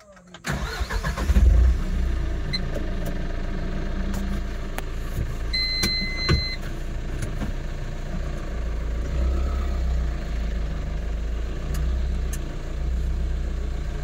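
A Tata Intra V50 small truck loaded with coconuts cranks and fires within the first second, then runs at a steady, rumbling idle close by.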